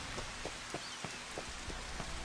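Steady rain pours in the Final Fantasy XV Platinum Demo, a dense, even hiss of drops with faint periodic soft thumps underneath, no voices.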